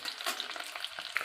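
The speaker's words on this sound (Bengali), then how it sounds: "রসুনটা আমি ভেজে নেব।" Garlic frying in a pan, heard as a close, crackling sizzle with small irregular pops and spatters over a short stretch.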